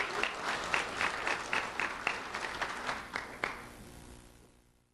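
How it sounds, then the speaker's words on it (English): An audience applauds two elementary school students at a community event, a round of clapping that starts full, continues with scattered louder claps, then thins and fades out toward the end. "Let's have a round of applause for Brianna and Brittany."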